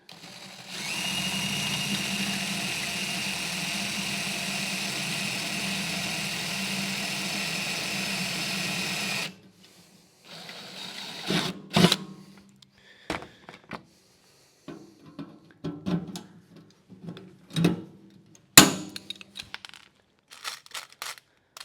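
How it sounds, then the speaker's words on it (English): A power drill bores holes through a sheet metal hobby box, running as a steady whirring whine for about nine seconds, then stopping. Scattered clanks, taps and handling knocks of the metal follow. "Let's go ahead and get this hole drilled."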